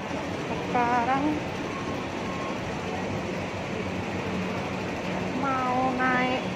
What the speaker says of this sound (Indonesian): kereta api ya guys ya, naik kereta api